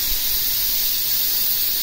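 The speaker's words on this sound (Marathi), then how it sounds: "शिटीचा वाफ जाऊ देत." A pressure cooker of mutton on a gas stove vents steam after its fourth whistle: a steady, loud, broadband hiss that holds without a break.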